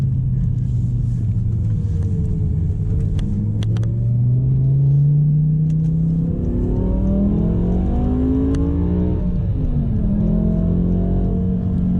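A BMW M6 V10 with a manual gearbox drones loudly and steadily on a highway, rising and falling in pitch as it revs through gears, with road rumble underneath.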